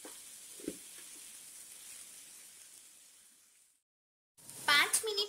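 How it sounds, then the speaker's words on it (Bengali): Diced potatoes frying in a pan over a medium flame give off a faint, steady sizzle with a brief stirring clatter. The sizzle fades to silence, then a short burst of clattering follows. "আর নাড়তে চাড়তে 3 থেকে 4 মিনিট আমরা আলুটাকেও কিন্তু ফ্রাই করে নেব"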